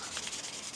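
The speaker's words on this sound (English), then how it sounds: "I've got some 1000 grit wet and dry, and I'm just going to key it off all the way around in all the nooks and crannies" Hand sanding with 1000 grit wet and dry paper, keying off a surface around a VW Crafter badge or door rail before painting, a soft continuous rubbing close up.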